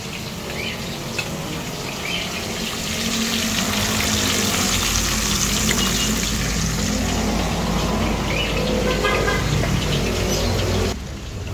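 Tilapia fish frying in hot cooking oil, a steady loud sizzle and crackle that swells after a few seconds and holds continuously until it cuts off near the end, with no talking.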